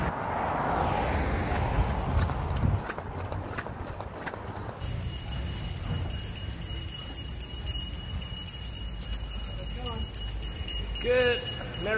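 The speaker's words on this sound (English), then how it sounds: "This guy out there just ringing a bell." Hand bell rung outdoors on a winter street, clanging in short bursts in the background while a person talks nearby over wind and passing footsteps.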